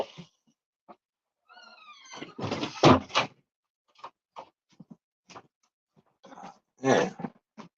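A door is opened to let a dog outside, with a few short knocks and scrapes of the handle and door mixed with brief movement sounds and faint whines, close by and fairly quiet.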